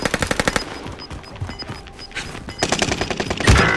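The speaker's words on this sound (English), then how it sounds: "Dude, where are they shooting me from?" Rapid automatic gunfire in the video game Call of Duty: Modern Warfare, with loud, evenly spaced bursts near the start, a brief lull, then another dense volley ending in a heavy blast.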